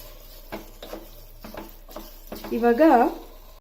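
Rice being stirred and mixed in a pot for chicken biryani, a few soft scraping strokes and clinks building into a louder sizzling stir near the end, with light background noise.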